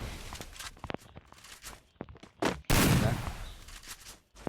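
Gunfire from a Desert Eagle in a video game shooter comes as scattered sharp shots and clicks, followed by a loud, sustained burst of firing that fades out, with light reloading and movement sounds between.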